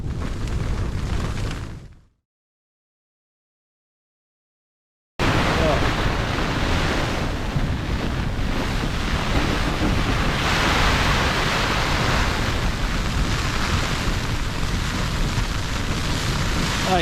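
A snowstorm wind roars outside a Fjallraven Abisko Lite 2 tent during Storm Barra, a dense, steady rush of noise. It cuts out briefly into silence, then returns loud and unbroken.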